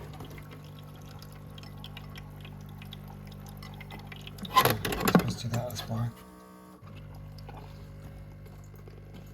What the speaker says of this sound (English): So it's putting water into the jug